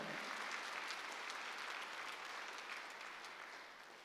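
Faint, distant applause from a church congregation during a Sunday sermon, an even hiss of many hands clapping that holds steady and then tapers off slightly at the end.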